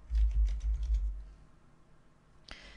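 Fingers tap out a short run of keystrokes on a computer keyboard while entering a macro name in a spreadsheet, quick close clicks for about a second, then quiet and a single sharper click.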